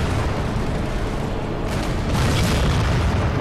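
Scorpion tank shells from Halo 4 land with a heavy, rolling boom and rumbling impact, a dense continuous blast sound swelling slightly midway, loud with no talking.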